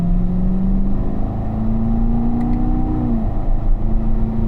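A race car engine holds a steady, loud drone while driving through a corner, its pitch rising and then dropping sharply as the driver shifts down into third gear.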